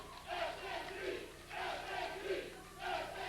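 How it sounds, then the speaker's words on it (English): A wrestling crowd at a televised NWA Wildside event cheers in rising and falling waves, heard distantly and quite faint. "Crowd firmly behind the SATs, trying to shut down a loudmouth Black Nature Boy"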